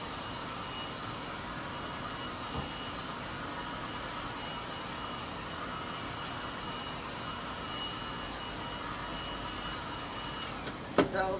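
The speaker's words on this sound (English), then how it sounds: "just hit it again with the heat gun a little bit." A heat gun blows over a painted round canvas, a steady, close whooshing roar that runs nearly unchanged throughout and ends with a brief clatter.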